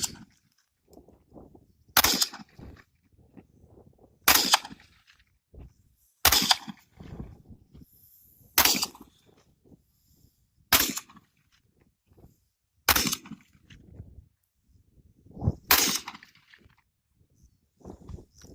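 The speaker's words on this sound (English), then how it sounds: "Let me do some rapid fire here." A Steyr AUG rifle fires seven sharp, cracking shots at fairly even intervals of about two seconds. Faint shuffling and handling noises fill the quiet gaps between the shots.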